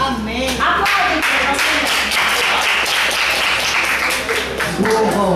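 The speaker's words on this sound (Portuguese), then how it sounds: "Aplaudem." Church congregation applauding together, a steady dense patter of many hands at close range, with some voices mixed in.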